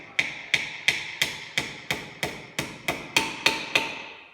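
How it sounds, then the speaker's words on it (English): Hammer driving nails into a small wooden sliding-lid box, eleven sharp evenly spaced knocks about a third of a second apart, each ringing briefly, close and alone with no talk. "then basically just whack the nails in"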